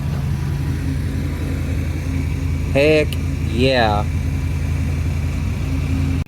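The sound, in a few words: old International C Series Travelette truck engine running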